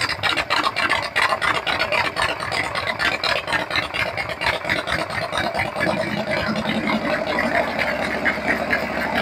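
A 1200 Harley-Davidson Shovelhead FXE engine fitted with an S&S Super E carburetor idles close by in a fast, steady rattling pulse that quickens slightly as the revs climb after the carburetor adjustment, with no talking.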